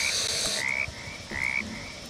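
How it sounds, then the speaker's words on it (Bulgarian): Frogs croak in two clear, drawn-out calls with a short gap between them, standing out against a steady background hiss. "жабките са тук, жабките"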